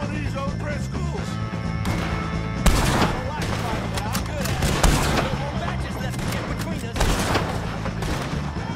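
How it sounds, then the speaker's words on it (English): Gunfire in the video game Red Dead Redemption 2, sustained volleys of shots and crashes over a constant loud game soundscape, with sharp bursts standing out and someone talking over the action. "If you can hear me, shoot some of these old Driscolls."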